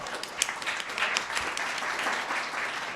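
Audience at a law review symposium breaks into steady, dense applause, many hands clapping together at a fairly loud and even level for the whole stretch.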